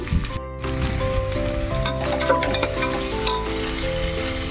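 Ingredients for coconut rice fry steadily in a pan, a continuous close sizzle with occasional stirring scrapes, heard alone without talk.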